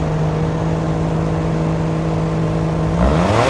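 A 4WD Suzuki Alto Works with an aftermarket muffler holds a steady, buzzy engine drone up close, then its exhaust note climbs sharply as the engine is revved at the end.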